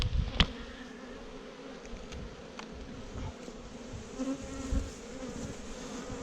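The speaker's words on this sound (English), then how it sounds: "Obviously got a few cranky bees." Agitated honeybees in a wild colony hive being cut out of a log buzz in a low, continuous drone, with a few sharp knocks and handling bumps from the work nearby.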